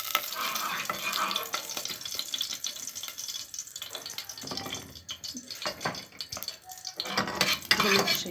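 Chicken pieces frying in a pan with chopped onion, garlic cloves and diced tomato, a low continuous sizzle broken by stirring scrapes and clinks of the utensil against the pan.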